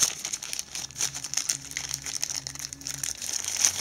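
Crisp crinkling of the original plastic wrapping around an HTC hands-free stereo earphone kit, handled close up in short continuous bursts with no speech.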